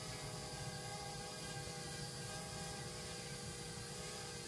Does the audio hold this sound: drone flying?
yes